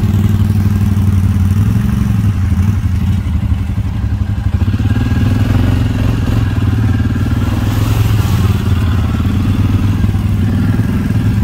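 A Can-Am Outlander 570 ATV runs along wooded trails, its loud, continuous engine drone rising and falling with throttle, mixed with clattering and thumps from the terrain, close up and with no talk.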